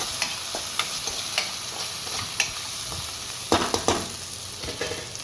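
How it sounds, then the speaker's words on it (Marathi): Onion and tomato cook in a pan for a banana flower vegetable dish, a gentle continuous sizzle punctuated by clustered clinks and scrapes of a stirring spoon, with no one speaking. "थोडा कांदा टॅमॅटो शिजवून घेऊया."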